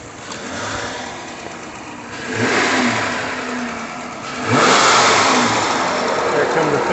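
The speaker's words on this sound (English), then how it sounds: "Zachary, give it a rev or two." A Charger engine idles with its cooling fans running, then revs twice in quick, loud surges, each settling back to a rumbling idle, with a voice speaking nearby.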